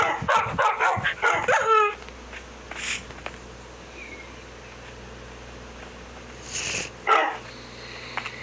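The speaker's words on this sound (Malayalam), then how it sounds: "ഇവിടെ ഇപ്പോൾ പട്ടിയാണ് ഞാൻ സ്പോൺ ചെയ്തെന്ന് വെച്ചോ" A quick run of video game dog barks at the start, then quieter background hum with a couple of short yelps later.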